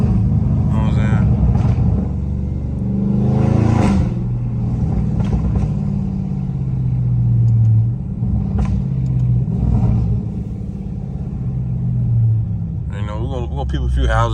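Dodge Charger Scat Pack engine driving in sport mode through a neighborhood, a loud, deep rumble that swells with throttle and surges in pitch, heard from inside the car with people talking over it.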